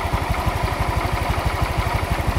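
A Honda Vario F1 scooter with a radiator losing coolant idles calmly up close, its engine putting out a steady, even train of low pulses with no revving and no voices.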